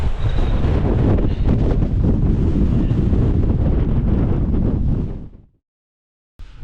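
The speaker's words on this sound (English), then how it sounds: "Honestly, I can't believe this wind." Strong wind buffets the microphone on an exposed mountain summit during a storm with rain, a loud continuous roar with gusting texture that cuts out abruptly near the end, then returns briefly.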